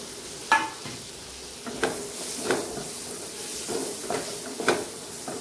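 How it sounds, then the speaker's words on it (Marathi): Chopped tomato goes into a sizzling masala of coriander powder and garam masala for moong dal with bottle gourd, giving several soft stirring scrapes and faint frying hiss at a steady low level, with no talking. "आपण चिरलेला टोमॅटो टाकून घेऊ."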